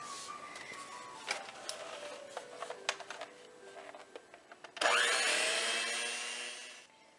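Electric hand mixer with beater attachments beating unsalted butter and sugar, a loud steady whirring drone that starts abruptly after scattered clattering and knocking, then holds continuously and slowly fades.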